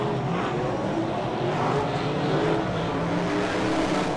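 Race cars roar around a speedway during a teams night meeting, a steady dense wash of engine noise from several cars at once, loud and continuous with no voices.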